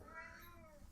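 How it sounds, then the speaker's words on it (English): A house cat meows once, close and fairly loud, with no talk over it. "And that is my cat again."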